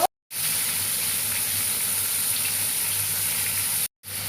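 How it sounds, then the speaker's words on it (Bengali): Crabs fry in hot mustard oil in a wok with a loud, steady hiss and sizzle held close up, broken by two brief cuts of silence. "সর্ষের তেল দিয়ে কাঁকড়াগুলো ভাজা করে নেব"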